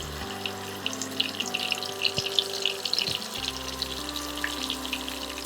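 Aar fish frying in hot oil in a home kitchen, a steady soft sizzle and crackle running throughout with a low background hum, fairly quiet and continuous.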